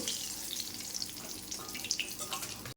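Bitter gourd pieces frying in hot oil, a crackling, spitting sizzle with scattered pops over a short stretch, close and moderately loud.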